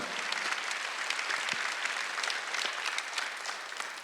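Sustained applause from a church congregation during a Sunday worship service, dense steady clapping filling the room for the full length at an even loudness, with no voices standing out above it.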